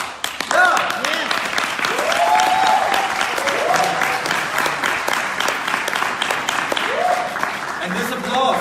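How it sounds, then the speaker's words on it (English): Audience at a Dealshaker Expo session in Paris breaks into loud, sustained applause, dense clapping filling the hall while a voice talks over it in places. "And this applause is an applause for your work"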